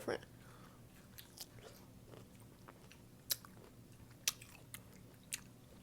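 Crisp biting and crunching on a pickle, several sharp close-up crunches spread unevenly over a few seconds, with faint background noise between bites.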